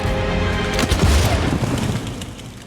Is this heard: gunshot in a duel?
yes